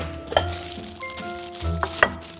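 Soft sizzling of rice in a pan with soy sauce water, a few light scraping and clinking strokes as it is stirred, close and fairly quiet.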